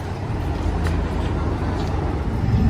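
Steady low engine and road rumble of a car on the road, heard from inside the cabin on a trip toward Kashmir, a continuous hum with faint rattles and no talking.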